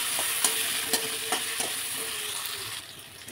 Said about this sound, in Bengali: তেলটা আমার গরম হয়ে গেছে, এবার আমি আলুটা ভেজে নেব।